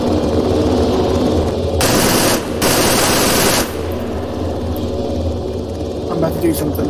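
Arma 3 helicopter door gunners fire long, loud machine-gun bursts over a low rotor drone, two bursts separated by a brief gap, then the rotor hum continues with people talking.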